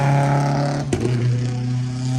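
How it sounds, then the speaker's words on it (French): A rally car roars past nearby, a loud steady engine drone whose pitch drops sharply midway as it goes by, with no voices. "ah bah tiens, il y a le rallye. C'est une autre sonorité."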